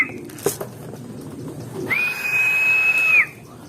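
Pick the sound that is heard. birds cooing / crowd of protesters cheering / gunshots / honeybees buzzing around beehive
birds cooing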